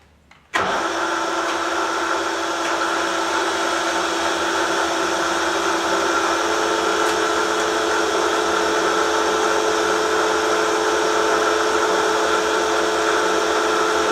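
A machine tool takes a one-millimeter cut off the top of a vee block, starting abruptly and then running as a loud, steady, droning whir with a constant hum throughout, no talking.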